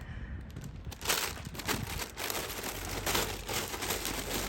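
An inflated crisps bag is handled up close, giving soft, irregular crinkling and crackling bursts that run quietly throughout.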